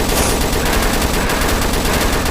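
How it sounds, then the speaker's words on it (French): An assault rifle in the Roblox zombie game Zombie Arena fires a loud, rapid, unbroken stream of automatic shots that lasts the whole stretch. "c'est quoi cette arme à feu de fou? J'ai jamais vu un fusil d'assaut autant puissant dans un jeu d'armes sur Roblox."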